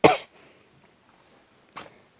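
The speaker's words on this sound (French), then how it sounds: "il est même pas 8h et je tousse" Two short coughs from a woman early in the morning, a louder one at the start and a softer one about a second and a half later, close with quiet in between.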